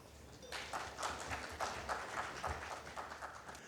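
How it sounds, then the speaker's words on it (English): An audience at a talk on AI and conversational roleplays breaks into applause, a dense burst of many hands clapping that starts abruptly and stays steady and fairly loud. "Welcome him with a huge round of applause"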